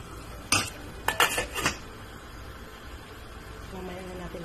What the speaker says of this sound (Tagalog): takpan muna natin ang kaserola